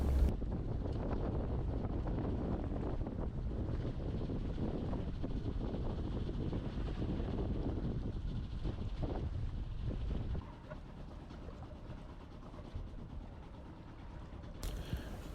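Strong wind buffets the microphone aboard a small sailing boat under way, with a steady loud roar throughout that eases somewhat toward the end, and no talk.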